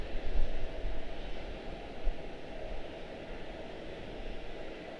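Boeing 777-300ER airliner departing from Charlotte-Douglas airport, a distant broad jet roar with a low rumble, steady and fairly faint throughout.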